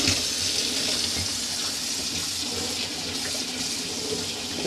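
Hot water runs steadily from a tap in an Adria Coral Supreme 670 caravan, a constant close hiss and splash lasting several seconds with no voices over it.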